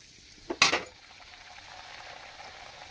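Puris made from wheat flour and semolina drop into hot oil in a kadai over a low flame. A loud splash-crackle bursts up briefly, then settles into a faint, steady sizzle of frying.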